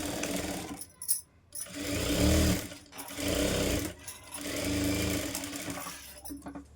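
Sewing machine stitching blouse fabric, running in several close bursts with short pauses between runs, a steady mechanical whir.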